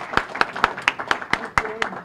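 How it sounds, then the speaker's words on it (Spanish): Sparse, rhythmic clapping, about nine claps at a steady pace, close and fairly loud, like a small group applauding at an anniversary event. "Aplauso para Arelis."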